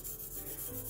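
A knife blade stroking across the 1000 grit side of a sharpening stone, a faint, close, continuous gritty rubbing over one second.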